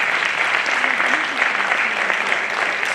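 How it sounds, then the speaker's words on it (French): Audience applause for event partners, a dense, steady clapping that fills the room continuously from start to finish, close and loud with no pauses. "Est-ce qu'on peut applaudir pour tous nos partenaires"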